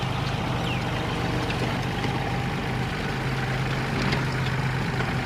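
A heavy diesel tractor engine idles nearby with a steady low rumble and chugging throb, running continuously at a constant pace.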